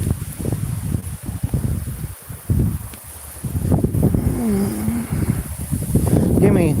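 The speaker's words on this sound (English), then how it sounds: "it's so fucking windy today" Wind buffets a microphone outdoors on a gusty day, a steady low rumble and rustle running throughout under a man's nearby speech.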